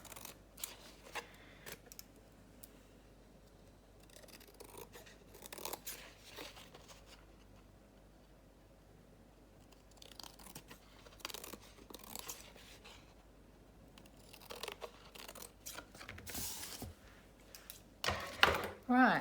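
Scissors trim a paper shaker tag for bee-themed crafts, with scattered close snips and rustling of paper coming in short bursts between quieter pauses.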